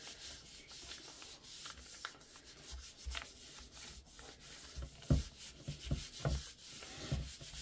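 Close rubbing of a cardstock sheet pressed down over a gel print made with inks, oxides and mica sprays, a soft steady scraping that grows into firmer, rhythmic strokes near the end.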